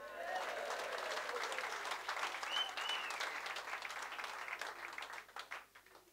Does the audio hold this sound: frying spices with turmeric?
no